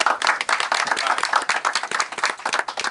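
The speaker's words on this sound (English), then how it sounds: "Huge round of applause for everyone for trivia." An audience at a Star Wars author event in a San Diego bookstore applauds in a lively burst of rapid, overlapping claps, close and loud, holding steady for a few seconds.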